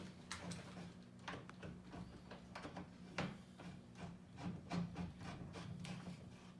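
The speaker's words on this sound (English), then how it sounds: "This is just going to screw on." A doorknob is screwed by hand onto a mortise lock, giving faint, irregular clicks, taps and light scraping of metal parts with no talking.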